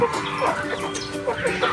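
Hens cluck repeatedly in short, busy bursts, close by, with a steady farmyard murmur underneath.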